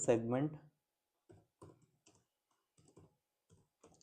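Someone types a report title on a computer keyboard: short, soft bursts of clicking keystrokes in quick clusters with pauses, close and quiet, following a brief spoken phrase.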